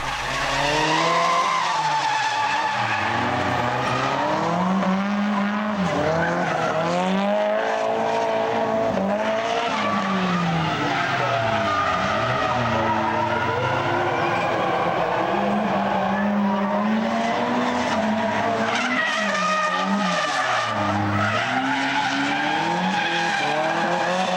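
A Nissan S14 with an SR20DET engine drifts at a Japanese event, tires squealing and skidding continuously while the engine revs rise and fall, loud and sustained throughout.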